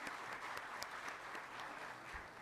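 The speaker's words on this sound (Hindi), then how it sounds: "जोरदार तालियां हो जाएं एक बार सर के लिए प्लीज।" Sustained audience applause at a Hindi poetry gathering (kavi sammelan), steady dense clapping from a crowd, moderately distant and even throughout, with no voices over it.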